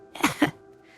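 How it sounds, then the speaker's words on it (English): A wet, phlegmy cough comes as two quick close bursts, loud and near, then fades into quiet. "The prisoner released a wet cough."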